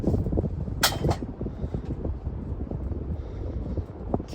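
A Casablanca Panama ceiling fan runs on high in a shed, a steady rushing airflow buffeting the microphone like wind, with a few faint knocks.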